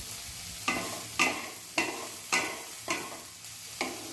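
Taro cooking in a pan with chilli, cumin and coriander powders being stirred in, a steady sizzle broken by about seven regular scraping strokes of a spoon against the pan, close and alone.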